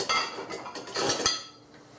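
Kitchen utensils clatter and clink together, a spatula and butter knife among them, in quick irregular bursts of metallic knocks and scrapes, close and fairly loud, tapering off near the end.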